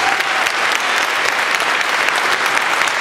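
Audience applause in a hall during a Martin Luther King Day event on restaurant workers, steady dense clapping filling the space for about three seconds with no talking over it.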